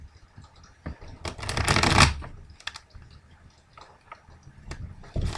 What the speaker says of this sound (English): I did some free shuffling, so I think we're going to be all right with just one of these and then a nice cut.